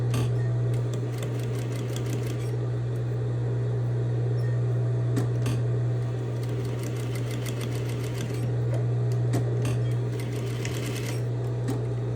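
A sewing machine stitches bias tape in the ditch with a steady motor hum and rapid needle clatter, running in a few continuous bursts with short pauses, close and alone.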